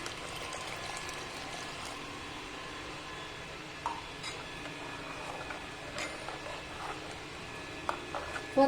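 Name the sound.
water being poured into a pot of veg salna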